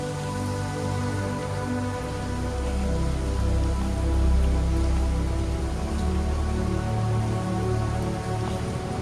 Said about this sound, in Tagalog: Dito lang tayo sa may shelter kasi maulan, madulas.